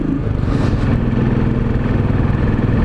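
Royal Enfield Classic 500 motorcycle on the move during a relaxed ride, its single-cylinder engine giving a steady, continuous low rumble throughout, close and fairly loud with no talking.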